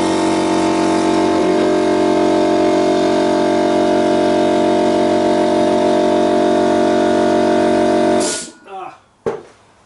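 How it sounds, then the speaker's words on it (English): An air compressor in a home workshop, beside a lathe, drones with a steady, loud mechanical hum that holds constant and then cuts off abruptly near the end, followed by a couple of brief thumps. "Bloody compressors always kick in the moment you don't want them to kick in"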